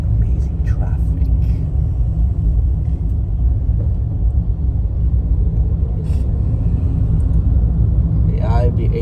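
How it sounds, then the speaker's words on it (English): Road traffic rumbles steadily and low from start to finish, with a faint voice talking over it. "And then this traffic too. This amazing traffic."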